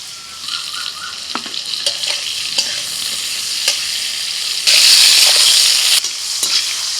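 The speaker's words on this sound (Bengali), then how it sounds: "হলুদ গুঁড়ো আর নুন দিয়ে পটলটা ভেজে নিই।" Pointed gourd pieces frying in oil with turmeric powder and salt, a steady close sizzle punctuated by repeated clinks and scrapes of stirring, swelling louder briefly near the end.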